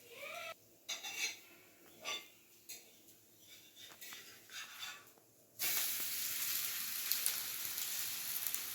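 Rava roti frying in oil on a pan: a few clinks of utensils against the pan, then a steady, bright, loud sizzle that runs to the end.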